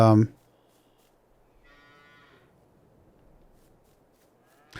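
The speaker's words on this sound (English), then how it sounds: "let's get the cows fully fed" Cattle in Farming Simulator 22 on the Erlengrat map give a loud low moo at the start, followed by quiet farm ambience with a faint higher animal call and another moo beginning at the very end.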